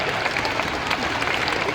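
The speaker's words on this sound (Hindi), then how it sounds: "ये देखो महिलाएं ताली बजा रही हैं।" Women in a crowd clapping at an outdoor political rally, a steady dense patter of many hands lasting the whole moment, fairly loud, with a faint crowd murmur beneath and no clear talk.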